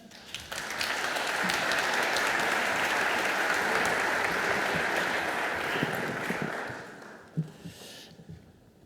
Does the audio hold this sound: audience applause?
yes